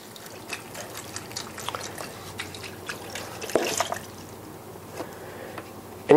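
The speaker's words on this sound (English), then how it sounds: "Coconut water. Pour that in here." Coconut water is poured into a blender for a smoothie, a soft close trickle with scattered drips and splashes, then a brief louder bump at the end.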